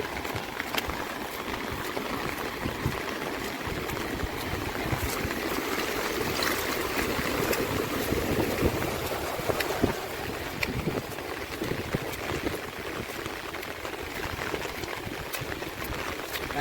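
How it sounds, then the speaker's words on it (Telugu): A reservoir overflowing its banks after a cyclone makes a steady, broad rushing roar of water that runs unbroken throughout, with wind buffeting the microphone and no talk. "చూడండి ఎలా పొంగు పొరులుతుందో వాటర్ అయితే ఫుల్గా ఇంకెక్కడ ఖాళీ లేకుండా ఫుల్గా"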